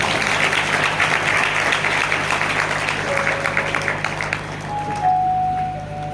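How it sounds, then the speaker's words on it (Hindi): A church congregation claps together, a steady dense roar of many hands that thins toward the end while a few tones ring faintly underneath. "ताली बजाओ।"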